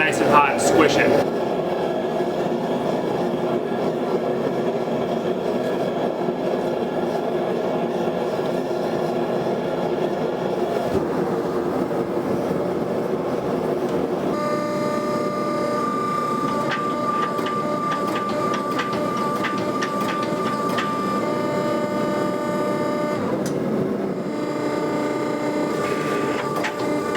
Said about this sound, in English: I'm actually going to go ahead and fire up the big forge